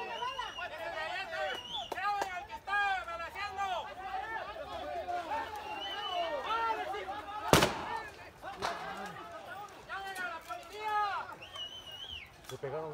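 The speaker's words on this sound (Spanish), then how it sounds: "Está quemando cohetes." Firecrackers go off in a town in the Raya area, one sharp loud bang standing out amid lively crowd chatter and voices that talk throughout, with a few smaller pops scattered around.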